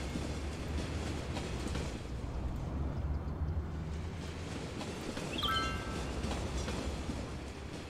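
A commuter train rolls past in the Cities Skylines city-building game, a steady low rumble with rail clatter lasting throughout, and a brief high whistle-like tone partway through.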